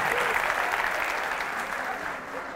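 An audience applauds at a comedy show, a dense, steady wash of clapping that fills the space and tapers slightly toward the end, with no voices rising above it.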